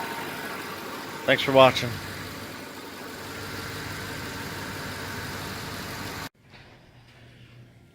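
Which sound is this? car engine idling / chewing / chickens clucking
car engine idling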